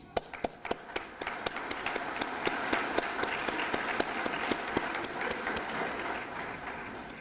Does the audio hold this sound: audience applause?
yes